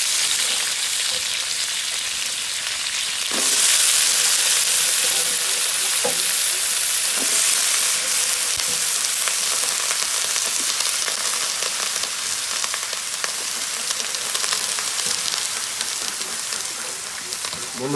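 Chopped vegetables hit hot oil in a pan for a katla fish curry, setting off a loud, steady frying sizzle that swells suddenly and then hisses on continuously with occasional stirring clinks.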